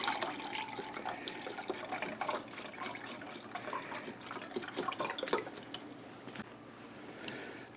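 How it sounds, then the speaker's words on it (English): Broth poured from a container into a measuring cup in a home kitchen, a soft continuous liquid splash and trickle with faint clinks, fairly quiet and steady throughout. "let's pour a cup of the broth into the measuring cup"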